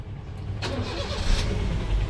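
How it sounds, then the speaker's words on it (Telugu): A 2014 Honda Brio petrol car engine cranks and catches on a single start, then settles into a steady close idle with a brief rev. "సింగిల్ సెల్ఫ్ ఇంజన్ స్టార్ట్ అయింది."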